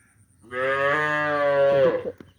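A single long, loud moo from a cow close by that has just given birth to a bull calf, rising then holding steady for about a second and a half before trailing off.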